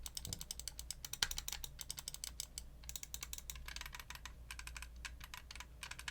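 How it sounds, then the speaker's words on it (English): A computer mouse scroll wheel turning, its softened clicks rattling in rapid ratcheting bursts with short pauses, close and fairly quiet, no talking. "they said they made the click softer just on the scroll wheel"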